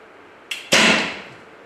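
A single arrow released from a bow fitted with a Wiawis ACS15 stabilizer: a faint click, then a loud, sharp crisp thwack that rings briefly and fades, alone without talk.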